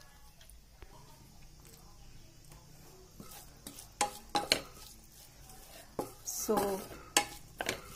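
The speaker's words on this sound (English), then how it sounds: "I will just let this onions get translucent. So I will fry it for another 2 minutes." Onions frying in a pan with light sizzling, then louder scraping strokes and clinks of a utensil stirring against the pan in irregular bursts, with a brief spoken word near the start.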